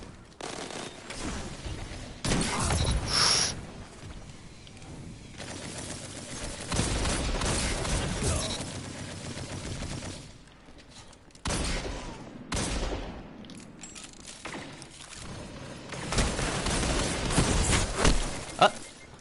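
Bursts of video-game gunfire from a sniping match come in clusters, with sharp reports and rattling volleys mixed with game effects. A player talks over much of it.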